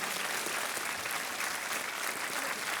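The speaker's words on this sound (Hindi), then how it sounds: "तालियां बजती रहनी चाहिए।" Dense, steady studio audience applause on the KBC quiz show, with many hands clapping continuously at an even level for the whole stretch and no voices over it.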